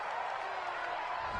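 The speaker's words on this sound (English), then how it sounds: "This home crowd, they're happy with that call." A home crowd at a Bills at Cowboys football game reacts to a penalty flag with a steady, distant roar of cheering and clapping that holds throughout.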